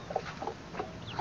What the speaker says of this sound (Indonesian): Ayam nakal guys